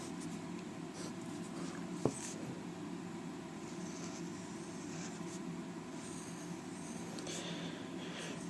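A pencil sketching a drawing of a porcupine's head, soft continuous scratching strokes close up with one brief tap partway through, no talking.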